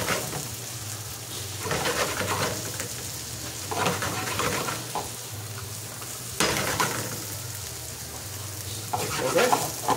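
Ginger added to a hot pan for a soy vinegar milkfish dish, frying in a continuous loud sizzle with scraping stirs, while faint bird cooing carries in the background.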